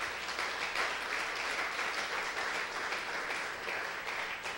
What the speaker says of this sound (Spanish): Démosle un aplauso al Eterno.